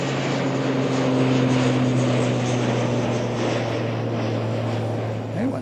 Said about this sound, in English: And here is another ATR.